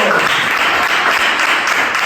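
Loud, dense clapping from a church congregation, continuous and close, with no pauses.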